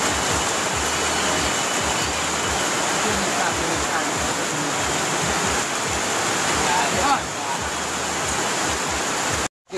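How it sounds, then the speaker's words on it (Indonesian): Hot spring water at Padang Gantiang, Batu Sangkar, pours and splashes in a steady loud rushing wash at night as people bathe, a continuous watery roar that cuts off abruptly at the end. "sekarang kita lagi mandi air panas di Batu Sangkar guys, Padang Gantian"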